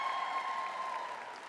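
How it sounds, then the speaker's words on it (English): A comedy-special audience claps faintly, a soft, thin patter of applause fading slightly over a brief moment, with a steady tone running beneath. "I'm glad you ladies are clapping"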